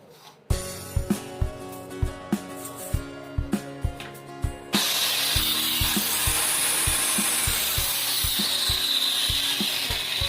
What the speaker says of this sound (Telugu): ఈ విధంగా రెక్క పండేసి మిషన్తో కట్ చేసుకోవాలి.